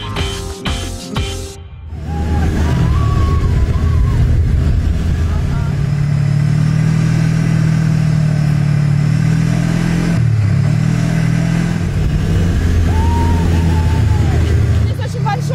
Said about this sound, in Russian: Мотор здесь также 4-тактный, 80 лошадиных сил, очень экономичный и приемистый.